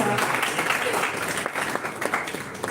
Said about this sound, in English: a big round of applause for Mohanty sir.